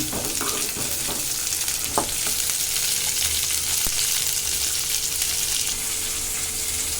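Steady, continuous sizzling of onions and chillies sautéing in oil in a pan for tomato chutney, with occasional stirring clinks and scrapes, no voices.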